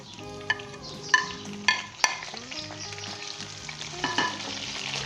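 Green chilies stirred into ginger and garlic frying in a pan: steady oil sizzle with scraping stirs and a few sharp spoon clinks, close and alone.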